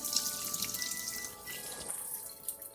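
Running water splashes steadily from a tap as sea moss is rinsed and strained beneath it, close and fairly loud, with no voices.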